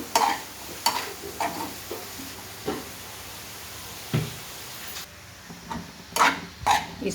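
Vegetable and chicken filling cooks in a pan, a soft low sizzle underneath scattered spoon scrapes and light knocks that come every second or so, fairly quiet and close.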